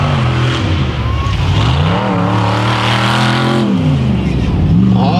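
Race cars at a Monsterrace event in Trollhättan roaring off from the start, loud engines revving and rising in pitch continuously, with an excited commentator's voice over the top.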